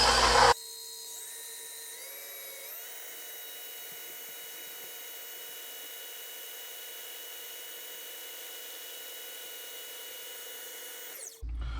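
An electric mixer whisks cream at high speed to make homemade butter, its motor whine climbing in steps as the speed is raised, then holding a steady, fairly quiet high-pitched drone before stopping.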